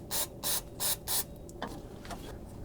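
An aerosol cleaner is sprayed inside the crankshaft seal bore of a Jeep XJ engine: four short, loud, evenly spaced hissing bursts, then a quieter stretch of faint workshop noise.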